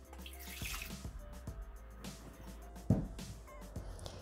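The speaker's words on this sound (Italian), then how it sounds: "Iniziamo la ricetta mettendo all'interno del boccale il latte." Milk is poured into a Thermomix TM6 mixing bowl for a soft wholemeal focaccia, giving a faint, steady liquid trickle with a few small knocks and a clunk partway through.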